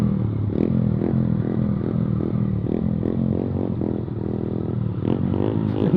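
Loud modified exhaust of a Yamaha MT15 BS6 motorcycle, a close, deep, steady rumble with uneven throbbing pulses running continuously without a break.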